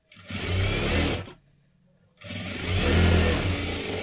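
A sewing machine stitches a katori blouse in two loud, steady bursts of running motor hum, separated by a short pause of near silence.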